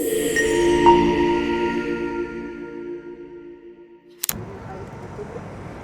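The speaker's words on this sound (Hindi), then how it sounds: "स्नो हो, बारिश हो, कुछ ट्रैफिक नहीं रुकती," Car traffic on a snowy street in downtown Toronto near Yonge-Dundas Square: a passing vehicle's engine drone fades away over several seconds, followed by a sharp click and a quieter, steady background hiss.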